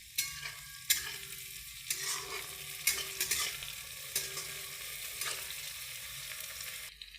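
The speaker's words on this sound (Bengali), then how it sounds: "রসুনটা লাল লাল ভাজা হয়ে গেছে" Garlic frying in a pan on a home stove, a soft steady sizzle broken by repeated scraping stirs, each stroke giving a brief bright rasp, close and quiet with no talking.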